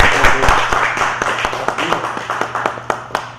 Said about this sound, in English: Let's give both of these men a round of applause real quick.